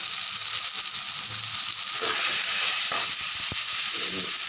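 Chili powder, chili paste and slit green chilies sizzle steadily in a hot pan while cooking rajma, a continuous loud frying hiss with a few soft stirring knocks and no voices.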